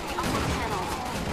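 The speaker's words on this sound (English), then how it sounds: "Quit shooting a gun at me!" Dense, rapid gunfire bursts in the Resident Evil 6 video game, a short continuous clatter of shots heard alone.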